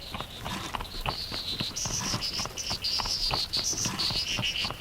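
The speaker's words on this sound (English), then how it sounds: "A cricket singing loud as he could, and his song was quite loud in that box made of wood." Cricket chirping loudly and steadily, a shrill high trill pulsing in rapid repeated bursts throughout, close and alone with no voices.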